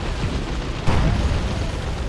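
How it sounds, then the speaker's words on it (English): Stranglethorn Cannon shots slam into a looted Ork tank in Dawn of War 2, one heavy booming impact rising out of a steady rumbling battle din. "Stranglethorn getting some shots on a looted tank now"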